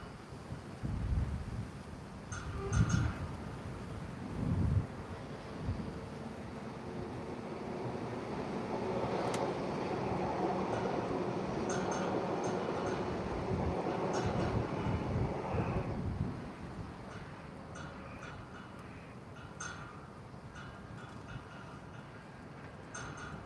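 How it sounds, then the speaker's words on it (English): Class 331 electric train passing on the down slow line toward Blackpool North, a rising then fading rush of wheels and motors with wind buffeting the microphone, heard from trackside at moderate loudness. "And here comes a class 331 going to Blackpool North,"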